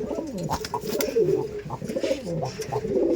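A female racing pigeon coos close by, a soft repeated throaty warble with rising and falling tones, continuous over a few seconds with faint background noise.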